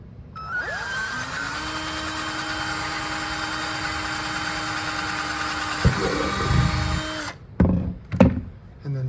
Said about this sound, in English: So I'm going to drill these 2 pilot holes, mount those brackets